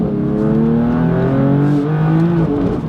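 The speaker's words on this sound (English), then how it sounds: "this is our first drive on our stage 1 cheap BMW M4" A stage 1 tuned BMW M4 with a twin-turbo engine accelerates hard. The engine tone climbs steadily through the gears, loud and close, with no talking.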